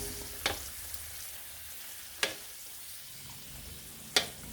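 Soft, steady sizzle of potato fries frying in olive oil, with three sharp pops spaced a couple of seconds apart.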